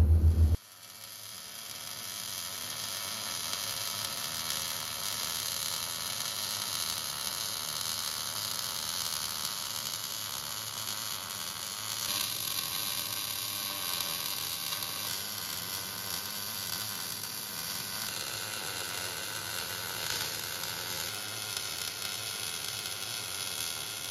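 Steady crackling, sizzling arc as a shaft bar and washers are welded onto a tractor bucket brush in a workshop, continuous and fairly close, with a faint hum underneath.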